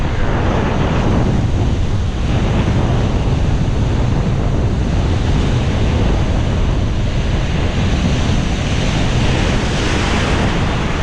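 Ocean surf rolls steadily onto a beach at Cancun, Mexico, a dense continuous wash with heavy wind buffeting the microphone throughout and no talking.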